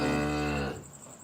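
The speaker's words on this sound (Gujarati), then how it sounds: "એચએફ ગાય બહુ મસ્ત છે" A Holstein Friesian cow gives one loud, close, deep moo that stops abruptly, leaving quiet background.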